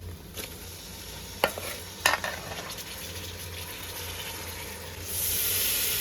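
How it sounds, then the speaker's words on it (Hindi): Rice being mixed with potatoes and masala in a pan, with soft scraping stirs and a few sharp clinks of the spoon, then a rising sizzle toward the end. "चावल डालने के बाद इसको अच्छी तरह से मिक्स कर लो गाइस।"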